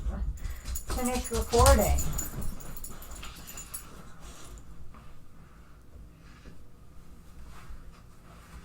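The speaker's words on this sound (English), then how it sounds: "The dog is back." A dog whimpers and yips in a quick high burst partway through, mid-loud against background noise and game sounds, with a person talking over it.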